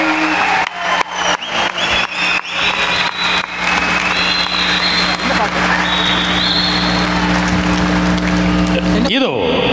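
A packed concert hall audience applauds as a singer walks on stage at a 1990 live show in Canada, loud crowd clapping and cheering layered over sustained tones from the stage.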